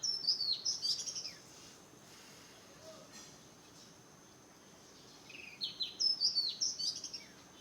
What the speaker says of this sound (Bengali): কি সুন্দর পাখি ডাকে।